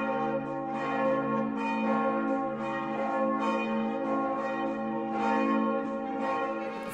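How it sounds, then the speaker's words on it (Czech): Church bells rung by hand from the tower in Domažlice, Czech Republic, during the celebration of St. Florian's feast, peal continuously with overlapping ringing tones swelling and fading in a steady rhythm. "Na domažlické věži ručně zvonil spolek místních zvoníků."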